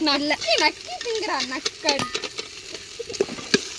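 Food stirred in a hot pan in a home kitchen, with scraping and sizzling bursts close by, under a woman's chatter in the first half and continuing mostly alone afterwards.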